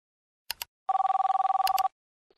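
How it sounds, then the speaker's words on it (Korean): A telephone bell rings with a single rapid, rattling burst of about a second, loud and close, after a couple of short clicks. "집을 여러 채 보유한 국회의원 중 왜 민주당 의원들 문제만 편향적으로 보도하느냐는 시청자의 전화가 왔습니다"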